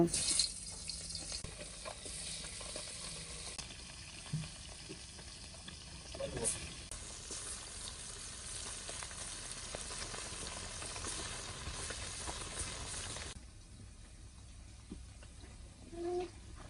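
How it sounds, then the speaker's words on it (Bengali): Fish rubbed with turmeric and salt fries in oil, giving a faint, steady sizzle with occasional small pops and clinks, plus brief quiet voice sounds in the background. "মাছটা হাতে মেখে তারপরে আমি তেলের মধ্যে অল্প একটু ভেজে নিব"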